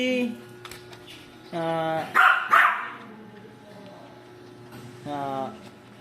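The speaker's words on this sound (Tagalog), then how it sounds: "Daming dog." A dog barks in several short bursts at close range, with speech heard in between and around the barks.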